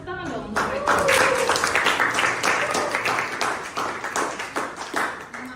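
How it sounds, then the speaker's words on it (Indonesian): A classroom of students claps for a student group, a dense burst of hand claps starting abruptly and running for several seconds before thinning out. "Tepuk tangan dong untuk mereka."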